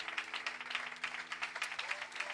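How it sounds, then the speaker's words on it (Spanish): Faint, steady applause from a church congregation, many hands clapping in a quick rhythm, heard from a distance. "Dale un fuerte aplauso al Señor"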